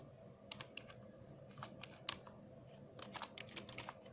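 Quick bursts of typing on a computer keyboard while entering text in DaVinci Resolve, several short clusters of close, crisp key clicks spread across a few seconds in a quiet room, with no voice.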